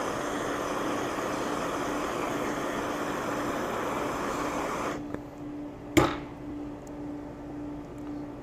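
A MAP gas torch roars in a steady, broadband hiss while shrinking heat-shrink tubing onto a battery cable lug. The flame sound holds close and even for about five seconds, then cuts off, and a short sharp click follows.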